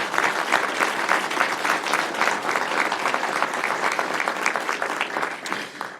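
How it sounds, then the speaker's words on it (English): A sustained round of applause from an audience at a public event marking a new crisis response center in Kirkland, steady, dense clapping that fills the whole stretch at full strength before easing off at the very end. "I think we owe them a round of applause for their leadership on this"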